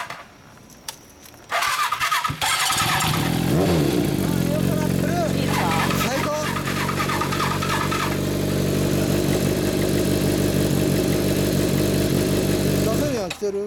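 A Kawasaki Zephyr 400 four-cylinder with a Yoshimura exhaust cranks, catches and settles into a loud, steady idle with a few throttle blips, heard up close; people talk nearby before it starts.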